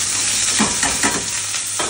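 Partially boiled vegetables hit hot oil in a very hot pan, giving a loud continuous sizzle with a few sharper crackling bursts, no voices.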